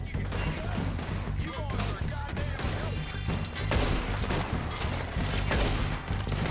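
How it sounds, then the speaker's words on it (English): Sustained gunfire rattles through a Red Dead Redemption 2 shootout, overlapping rapid shots and thuds for several seconds, loud and close, with a voice heard faintly at moments. "I'm taking fire."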